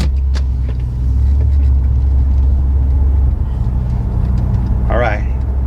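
Car driving and turning, heard from inside the cabin, a steady low engine and road rumble throughout, with a brief voice near the end.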